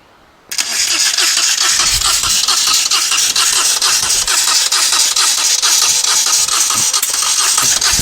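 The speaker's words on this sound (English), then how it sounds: "So here goes, fingers crossed we might get the engine to fire up." A Moto Guzzi motorcycle engine under restoration catches after a short silence, firing up abruptly and then settling into a loud, steady, rhythmic idle heard close by.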